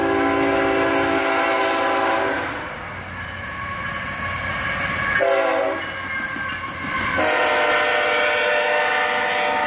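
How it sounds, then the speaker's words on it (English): CSX empty hopper train led by two ET44AH locomotives, a loud multi-tone horn sounding in long blasts over the heavy rumble of the passing locomotives and rolling cars. "Another empty hopper train, led by a pair of ET44AHs."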